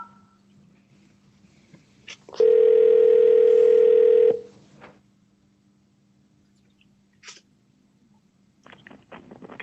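Telephone line tone after an automated dialing prompt: a single steady electronic tone lasting about two seconds, clear and prominent, followed by faint line noise and clicks.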